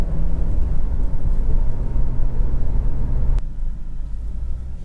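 A 1990 Nissan R32 Skyline GT-R Nismo engine pulls hard under acceleration as a steady, loud, low rumble with a droning tone, then drops abruptly to a softer rumble near the end, as if the throttle is lifted.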